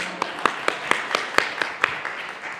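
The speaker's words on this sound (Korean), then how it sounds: "박수 한번 주세요" A youth church congregation claps in a sparse, evenly spaced rhythm, about ten sharp claps over a couple of seconds, close and moderately loud, with faint murmuring underneath.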